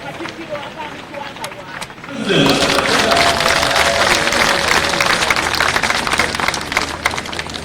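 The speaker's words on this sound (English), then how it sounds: "Can we clap for the Vice President?" A crowd at an anti-corruption walk breaks into loud, sustained applause for the Vice President. It starts suddenly after a short stretch of quieter background noise and stays dense and steady to the end.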